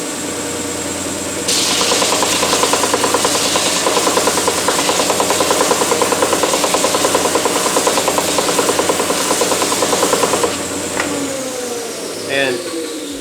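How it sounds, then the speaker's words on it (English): A combination sander works a bevel onto the end of a board, running as a steady, loud power-tool drone for several seconds before cutting off, with faint handling sounds after. "bevel that's being sanded on the end of the board"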